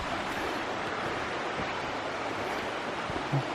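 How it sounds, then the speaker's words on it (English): Constant broadband roar of a loud, hidden waterfall through thick jungle foliage, steady and close, with a small thump near the end. "The waterfall's that loud, but we can't see it."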